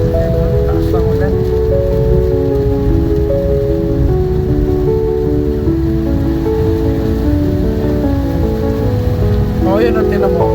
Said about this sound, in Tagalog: Ayan, taas ng ulan.